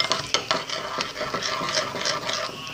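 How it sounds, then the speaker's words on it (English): Glue is stirred briskly to make clear slime, a continuous close wet scraping and squelching with rhythmic strokes of the utensil against the container. "You're just gonna keep mixing until you get the right consistency."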